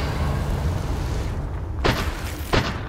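Confringo fire spell in the Hogwarts Legacy video game: two sharp blasts with heavy low booms land about a second apart over a constant rumbling background.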